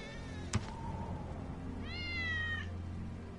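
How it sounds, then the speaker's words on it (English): Wedge's cat in the video game Final Fantasy 7 Remake lets out a single drawn-out meow that rises and wavers, following a sharp click, over a steady low game background hum. "That's Wedge's cat."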